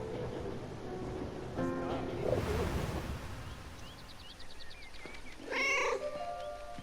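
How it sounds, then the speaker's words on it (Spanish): A cat in the video game 11-11 Memories Retold gives a couple of distinct, drawn-out meows, with a louder wailing one near the end, over soft ambient game sound. "The German and his cat."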